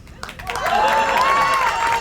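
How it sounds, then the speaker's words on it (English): A crowd at a Relay for Life charity event in Rutland County bursts into sustained applause with a few cheers, a loud wash of clapping under a raised voice or whistle-like tone. "round of applause because there was 130 votes and 10 cents"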